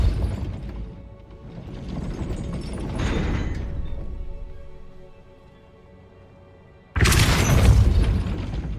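A Depulso spell strikes a gate mechanism in Hogwarts Legacy, setting off a loud booming crash with grinding, ratcheting machinery that rumbles and fades, followed by a sudden second heavy impact near the end.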